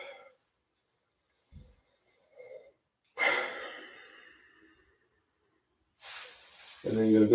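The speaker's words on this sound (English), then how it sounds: "Push the air down and out, exhale." A single long, breathy exhale during a meditation and stretching exercise, close and soft, fading out gradually. It follows a few faint rustles, and a voice begins speaking just after it.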